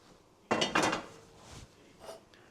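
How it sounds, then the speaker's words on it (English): Contents of a skillet dumped into a pot on an unlit stove while making a budget fall family dinner: a loud clattering scrape and rattle of pan against pot, then softer sliding thuds trailing off. "so I am just going to dump this skillet"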